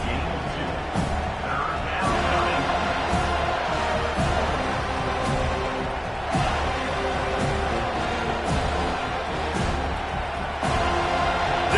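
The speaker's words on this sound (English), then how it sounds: "Decibels rising as the crowd gets behind this defense on 3rd down." A college football stadium crowd at a Florida State versus Florida Gators game roars steadily and loudly on third down, with a commentator talking over the noise.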